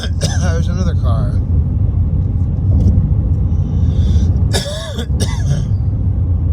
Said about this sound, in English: There's another car.